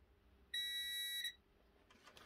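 A multimeter gives a single clear electronic continuity beep, steady and tonal, lasting under a second, while continuity is checked during a PlayStation 3 repair. A few faint clicks follow.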